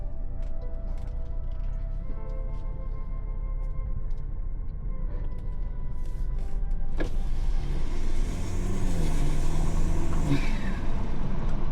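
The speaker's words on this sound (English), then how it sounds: "As y'all can hear, that turbo is absolutely insanity." Stage 2 tuned BMW F30 sedan rated around 250 horsepower, its engine and turbo spooling up under acceleration from inside the cabin, a steady low drone rising in pitch and loudness with a sharp whoosh near the end.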